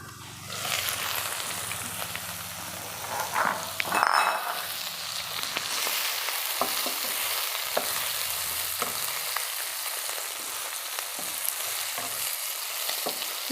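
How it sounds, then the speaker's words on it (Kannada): Chopped ridge gourd sizzles in hot oil in a pan, a continuous crackling fry with a few clinks and stirring scrapes of a spoon. "ಇದು ಹೀರೆಕಾಯಿ ಇದೆಲ್ಲ ಚೆನ್ನಾಗಿ ಫ್ರೈ ಆಗಿದೆ ಎಣ್ಣೆಯಲ್ಲಿ."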